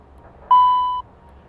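A single clean electronic cockpit notification tone in a Bombardier Challenger 650 flight simulator, steady and pitched, lasting about half a second over a low engine hum.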